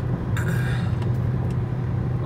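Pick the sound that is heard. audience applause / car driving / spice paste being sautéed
car driving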